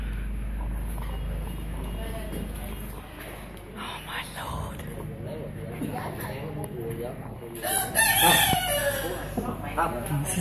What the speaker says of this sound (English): Okay, moving away from the chickens now.